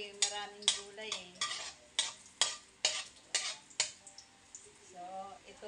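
Vegetable chop suey cooks in a large pan, with a utensil scraping and stirring in repeated rhythmic strokes over a soft background sizzle, close and moderately loud.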